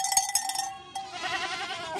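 Bells hanging on goats ring in Khola Gau, a few quick jangling strikes giving way to a steady, close, shimmering clangour that rings alone without talk.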